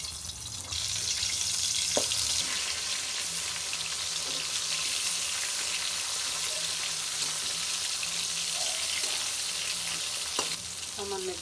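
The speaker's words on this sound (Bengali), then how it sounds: "তেল গরম হয়ে গেছে, বেগুন দিয়ে দেব।" Eggplant slices fry in hot oil in a wok with a dense, continuous loud sizzle and occasional soft clinks of a utensil, heard close and without speech.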